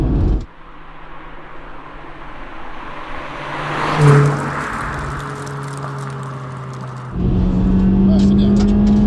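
A Honda Civic Type R EK9 revs hard, the engine note climbing steeply, with a sharp rise and a step change as VTEC engages, heard from inside the car.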